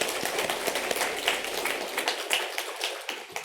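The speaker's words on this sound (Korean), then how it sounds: "네, 박수로 환영하겠습니다." Brief church-service applause for two congregation members as they stand, a dense patter of hand claps with sharp individual taps, moderately close and steady throughout.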